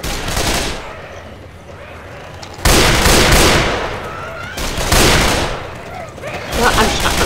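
Gunfire in the zombie video game Left 4 Dead 2 rattles in loud, dense bursts of automatic shooting, rising and falling in several waves, with players talking over it.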